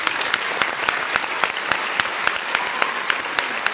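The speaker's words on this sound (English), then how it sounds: "give my man a round of applause" A crowd gives a steady round of clapping applause, many hands beating in a dense, even rhythm for several seconds with no voices rising above it.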